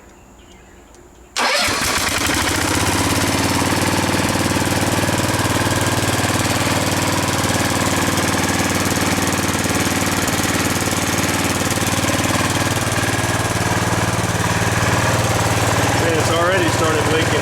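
A John Deere 140 garden tractor engine catches after a brief quiet moment, then runs loud and steady near at hand, a rough rumbling idle that carries on without a break through the rest of the clip.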